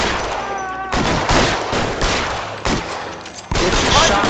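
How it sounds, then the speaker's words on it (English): Heavy gunfire in the L.A. Noire video game, several loud, sharp volleys in quick succession, harsh and close, filling the space with no talk over it. "shot my fucking hat off."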